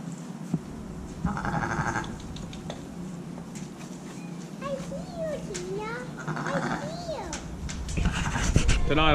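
Ewes and lambs in lambing pens bleat several times with wavering cries, mixed with scratching and rustling in straw, while a person speaks nearby.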